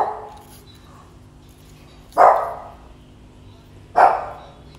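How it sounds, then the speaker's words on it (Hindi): A pet dog barks indoors, three loud, separate barks spaced about two seconds apart, each one sharp and close over a quiet background. "मेरा जो डॉगी है वो थोड़ा सा बोल रहा है"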